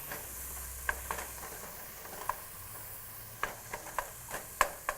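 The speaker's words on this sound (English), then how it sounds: "We're going to give this a stir, get all that incorporated" Vegetables in a pan sizzle softly under a steady hiss, while a utensil stirs them with scattered scraping clicks, near and quiet, with no voices.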